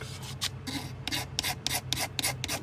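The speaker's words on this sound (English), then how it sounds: "it seems to scrape a little better" A knife blade scrapes along a chipped bone pocketknife handle in a run of short, rasping strokes, each a bright burst repeated at an uneven rhythm, close and fairly loud over a faint low hum.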